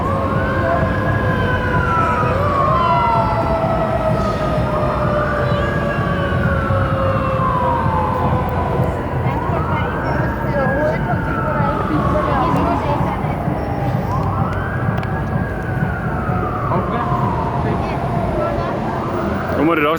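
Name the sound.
yellow fire trucks with sirens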